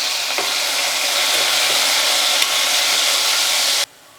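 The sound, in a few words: chopped green chillies frying in hot oil with cumin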